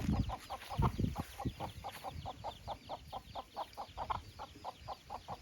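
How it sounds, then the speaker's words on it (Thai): Chickens clucking out in rural farm fields, a steady rhythmic series of short, mid-pitched clucks, fairly close, with light rustling underneath and no talking. "ไก่ลุงโกเนาะ"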